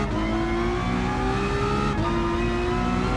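A racing car's engine revs hard and steadily in Gran Turismo Sport, a loud sustained whine that dips briefly as the gear shifts, then climbs again, with no talking over it.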